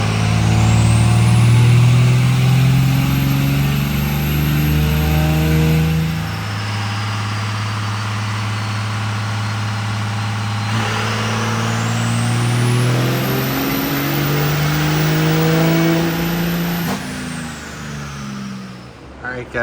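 A 24-valve Cummins diesel truck engine roars steadily on a dyno run, loud and close, its drone climbing in pitch through the pulls with little break.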